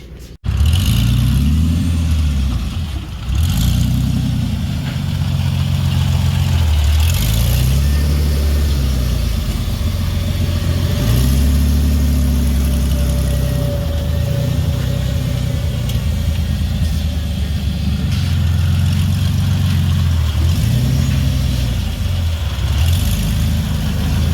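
A steady, loud engine idles nearby, its low rumble pulsing in a slow, regular cycle throughout.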